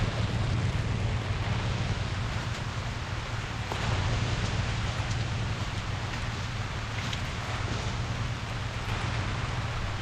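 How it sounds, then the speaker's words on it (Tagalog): A loud, constant roar of heavy rain falls on a sweet potato field, filling the whole clip, thick and unbroken, with no voices. "lakas ang ulan"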